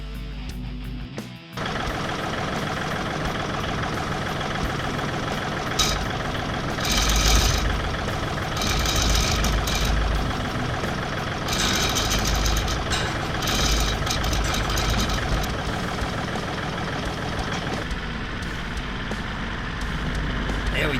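A tractor engine idles steadily and loudly for the whole stretch, a constant low diesel chug with slight surges.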